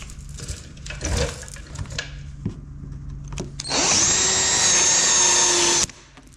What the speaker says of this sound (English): Just wanna see how this is gonna fit when I drill it.